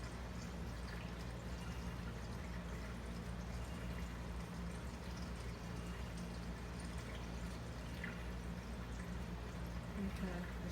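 Coolant pours into a car radiator in a steady continuous trickle, with speech-like sound in the background.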